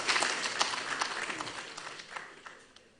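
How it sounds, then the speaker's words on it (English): Audience applause following a speech at a peace and security summit in Katsina, a brief burst of clapping that starts fairly full and steadily fades away, somewhat distant. "Another round of applause,"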